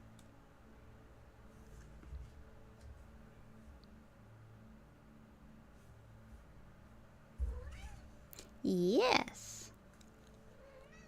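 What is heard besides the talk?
cat meowing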